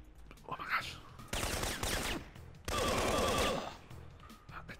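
Bursts of rapid gunfire from the Syphon Filter video game, two dense volleys of shots, loud and close, with quieter gaps of game noise between them.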